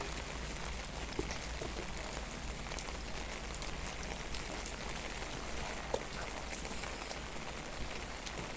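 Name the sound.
rain falling on a vegetable garden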